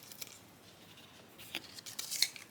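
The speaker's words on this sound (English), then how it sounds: "Now this I'm just going to cut because honestly," Scissors snip through a dead houseplant leaf, a few faint, quick cuts up close in a quiet room, with a sharper snip near the end.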